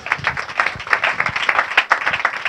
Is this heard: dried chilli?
no